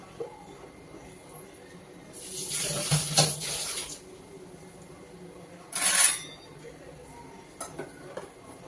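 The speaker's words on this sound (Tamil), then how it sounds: "மிக்சியும் அலம்பி விட்டுடலாம்." Water runs from a tap in two bursts, rinsing a mixer-grinder jar of buttermilk curry masala, splashing into a container, with light clinks of the jar and kitchen clatter between.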